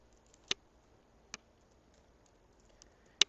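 Three sparse, sharp key clicks from a computer keyboard, spaced irregularly and close, over a quiet background while entering an Excel formula.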